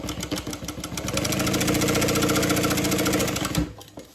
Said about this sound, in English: Put some clips in there and then go ahead and top stitch.